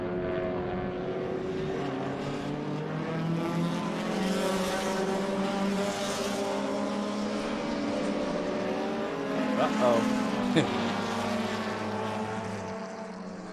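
Vintage B-Sedan race cars, among them a Mini and a 1971 Datsun 510, race at Laguna Seca near turn 6, a layered engine roar with shifting pitch as several cars pass, loud and continuous, one car swelling briefly near the end.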